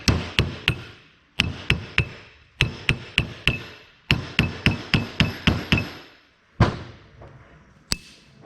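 Sharp, close hammer taps in quick clusters of two to four as a snap ring is driven into a RZR gear reduction, followed by a few heavier, spaced knocks near the end.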